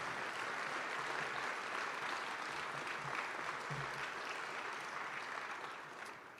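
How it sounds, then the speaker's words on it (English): A crowd at a county State of the Government address in Kansas City, Kansas, gives sustained applause. It is soft and distant, an even wash of clapping that holds steady and fades slightly at the end. "That is something that we need to applaud"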